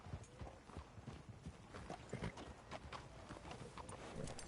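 Horse hooves clip-clopping at a walk on a town street in the video game Red Dead Redemption 2, a quiet, steady rhythmic patter of hoofbeats over soft background ambience.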